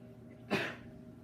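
A single sneeze in a chemistry classroom during a lesson: one short, sharp burst that rises quickly and fades within a fraction of a second, moderately close, against a quiet room.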